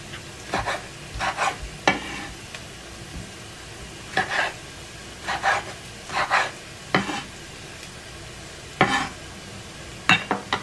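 Chopped onion frying in a pan for chicken tacos dorados, with repeated scraping stir strokes and a soft sizzle in short bursts over a steady low background.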